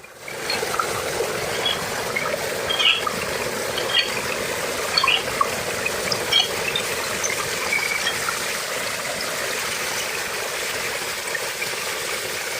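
Clean, cold water runs steadily in a constant broadband flow, near and moderately loud, with small splashy details scattered on top and no voices.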